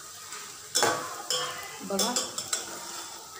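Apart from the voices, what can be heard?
cumin and mustard seeds frying in oil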